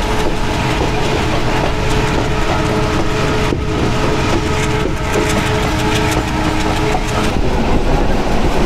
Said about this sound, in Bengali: ফুলতলা রেলওয়ে স্টেশন পার করছি, এখানে কিন্তু থামলো না ট্রেন, পুরো পাস হয়ে গেল।